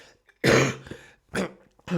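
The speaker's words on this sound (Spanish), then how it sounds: "la tos" Two harsh, loud coughs close to the listener, a short pause between them, with quiet breaths around them.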